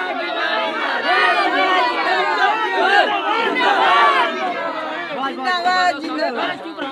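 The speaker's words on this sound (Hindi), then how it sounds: "भारी संख्या भीड़ से घिरे हुए हैं" Large crowd of supporters packed around a newly elected village head after a gram sabha election in India, loud overlapping chatter and shouts filling the whole stretch, close and dense.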